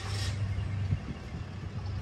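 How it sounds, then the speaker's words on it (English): A hot shot truck hitched to a three-axle trailer idles after being started, a steady low engine rumble heard quietly and fairly close, with no talk over it. "Turn the truck on."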